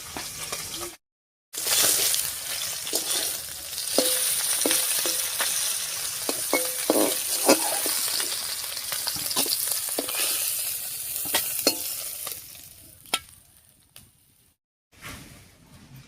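River fish fry in hot oil with a steady, close sizzle, broken by scattered clicks and scrapes of stirring and two short pauses.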